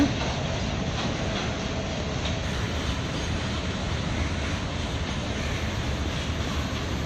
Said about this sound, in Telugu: ఈ బ్రిడ్జ్ మీద అయితే ప్రజెంట్ ఆ గూడ్స్ ట్రైన్ అయితే ఒకటి వెళ్తుంది